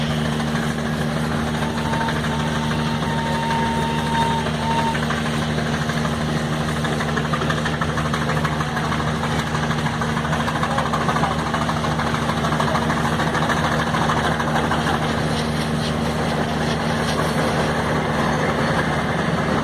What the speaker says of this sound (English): Engine just about to go down the hill there